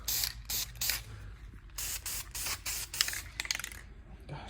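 Spray can hissing paint onto a Honda CRX part, a series of close, short and longer bursts of spray with brief gaps between, coating the piece all the way around.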